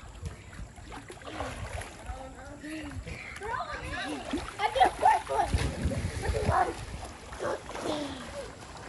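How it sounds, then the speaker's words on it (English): People are thrown into an outdoor swimming pool, making a cluster of sharp splashes and sloshing water amid excited voices, laughter and chatter nearby. "So he's just going to throw people in the water."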